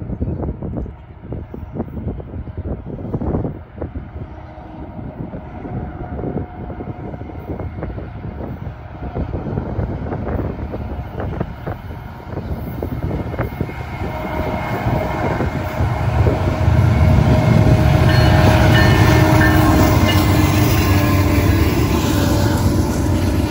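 An eastbound CN freight train passes through Watford, Ontario, with loud clattering rumble that builds and grows louder over the second half, mixed with gusty wind buffeting the microphone.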